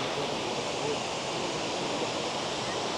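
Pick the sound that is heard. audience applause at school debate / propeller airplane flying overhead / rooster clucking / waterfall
waterfall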